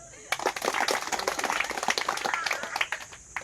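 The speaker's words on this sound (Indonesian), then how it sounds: "Tepuk tangan." A class claps hands in a lesson, a scattered burst of many sharp claps of uneven rhythm, fairly close and moderately loud, tapering slightly toward the end.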